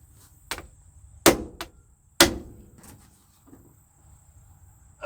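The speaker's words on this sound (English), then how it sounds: "Let me whoop it with a hammer," Two sharp metallic hammer strikes on a bolt of a 1972 C30 truck ring out close by, with a few lighter knocks and clatters between them against a quiet background.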